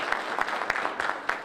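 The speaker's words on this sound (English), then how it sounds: "give everyone applause" At an aircraft rollout ceremony, a crowd gives brief applause for local officials, a short patch of clapping with a few sharp individual claps close by.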